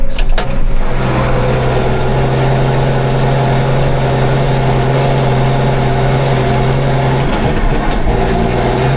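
A farm tractor's engine runs steadily while crossing a hilly field in four-wheel drive during first-cut silage work, a loud constant low drone with a slight shift in pitch near the end.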